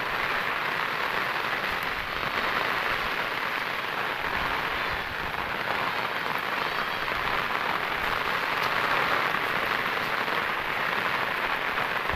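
Monsoon rain pours steadily over a village, a dense, even hiss of drops on surfaces that holds at the same loud level throughout with no voices.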